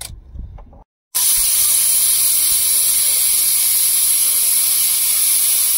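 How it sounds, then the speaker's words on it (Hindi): A pressure cooker cooking dal and rice at a truck driver's roadside stop gives off a loud, steady, close steam hiss that starts abruptly after brief muffled handling noise and a moment of silence, then continues unbroken. "अब ढक्कन लगाते हैं। अब 5-6 सीटी में पूरा दम दाल से गल जाएगा"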